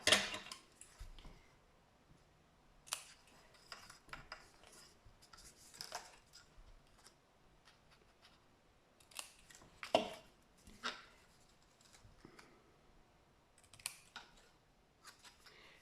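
Scissors snip at an angle through material for a diamond-shaped box, a series of quiet, scattered cutting clicks and snips spread unevenly, close but faint, with no talking.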